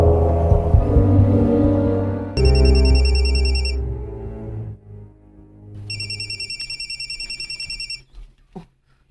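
A cellphone rings in a home in two bursts of bright, repeating electronic trills, separated by a short pause, over a low background hum.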